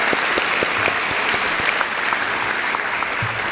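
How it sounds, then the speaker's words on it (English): A high school awards assembly crowd claps for staff, a loud, sustained wash of many hands with a few sharper individual claps standing out from the steady roar. "let's clap for them too"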